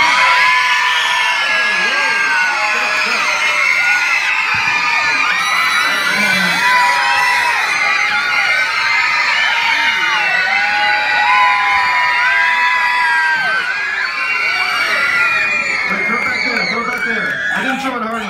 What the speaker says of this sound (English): I'm supposed to throw it to the child who screams the loudest.